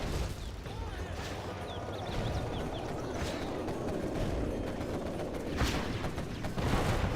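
Rapid cannon fire from a quad cannon anti-air vehicle in the real-time strategy game C&C Generals Zero Hour, a steady dense battle din of bursts and small explosions running throughout, with faint game effects layered above.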